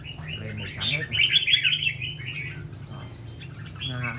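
A pet songbird lets out a burst of bright, high chirps and trills, fairly close, followed by scattered softer tweets over a low steady hum.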